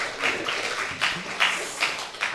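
Congregation clapping in a small church during a Sabbath worship service, a soft, scattered patter of hands with a few louder bursts, fairly distant and steady throughout.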